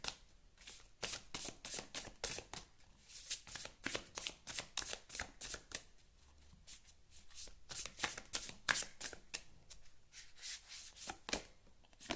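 A tarot deck being shuffled by hand in a steady run of crisp riffling bursts, close and fairly quiet, with no talking.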